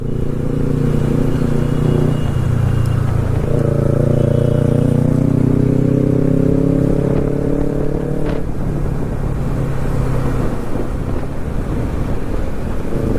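A motorcycle cruising in fifth gear at over 40 through city traffic, its steady engine drone rising and falling in pitch, loud and close under constant rushing wind noise.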